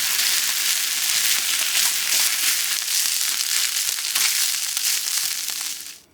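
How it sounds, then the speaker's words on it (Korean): Warmed instant rice stir-fried in a hot pan with soy sauce, salt and pepper alongside meat and spring cabbage, giving a loud, steady, dense crackling sizzle that holds throughout and cuts off abruptly at the end. "즉석밥 1개 따뜻하게 데펴서 넣고 밑간은 진간장 1스푼, 소금 2꼬집, 후추 약간 넣고 골고루 볶아주세요."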